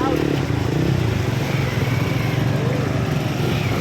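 A Yamaha NMAX scooter engine drones steadily and loudly up close through flooded streets during Typhoon Crising in Balagtas, a constant motor hum with road and water noise and people talking over it.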